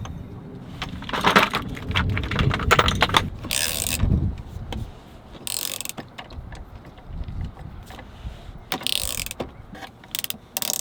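Metal parts of a DIY steering wheel puller being fitted and bolted onto a steering wheel, with repeated clicks, clanks and ratcheting bursts close by, mechanical handling noise throughout and no talking.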